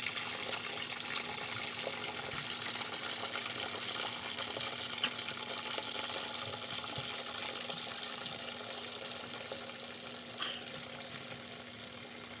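Water drains from a pot of boiled potatoes into a sink, a steady rushing pour that stays fairly even and fades slightly toward the end, with no talking.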